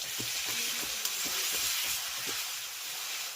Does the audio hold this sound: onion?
yes